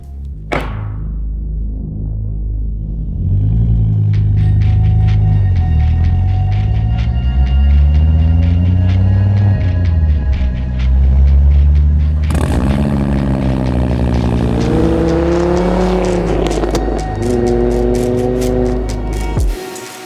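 A Volvo car drives and accelerates in two passes, its engine note rising and falling in smooth sweeps, loud and close, with a brief sharp thump at the start and no talking.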